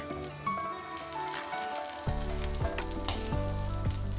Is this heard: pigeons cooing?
no